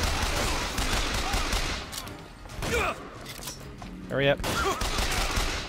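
Gunfire in the video game Bioshock Infinite, rapid sustained bursts of shots that thin out midway, then resume, with a voice speaking briefly over the din.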